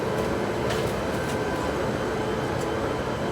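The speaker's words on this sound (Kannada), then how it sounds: "ಈ ಟ್ರೈನ್ ಮೂವ್ ಆಗ್ತಾ ಇದೆ ಗೈಸ್." A train moving past a busy railway platform, a steady broadband rumble of the wagons rolling by at close range, continuous and unbroken with no talk over it.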